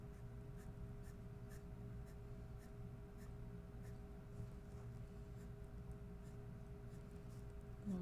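A colored pencil drawing lines on paper, a faint, steady scratching with light repeated strokes running through the whole stretch, with no speech.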